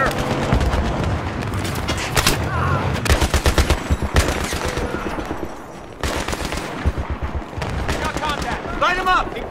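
Heavy gunfire in Battlefield 3 on a hard-difficulty campaign mission: dense, loud machine-gun bursts and single shots with explosive booms, nearly continuous, while soldiers shout orders over the fighting.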